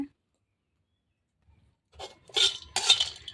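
A utensil stirring homemade beet salt as it roasts in a pan: a quiet pause, then a few close, intermittent scrapes and metallic clinks in the last second or so.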